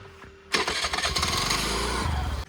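A TVS Jupiter scooter engine cranks and catches with a short start burst, then settles into a steady, close, loud idle buzz, heard alone at night in Kudal.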